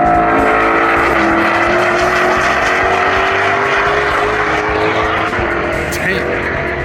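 Race cars at VIR roar past in a dense, continuous wall of loud engine noise, one car after another, the sound close and sustained with no pauses.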